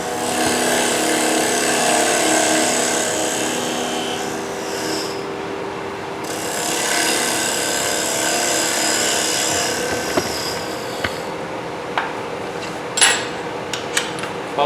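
A gouge cuts a square oriental box spinning on a wood lathe at about 2000 rpm, giving a steady close scraping rasp, with brief pauses and a few sharp knocks near the end.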